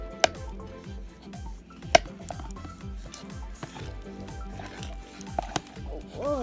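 Glow-in-the-dark slime being stirred and squished, with repeated wet squelching strokes in a steady rhythm, close and moderately loud, punctuated by a few sharp clicks against the container.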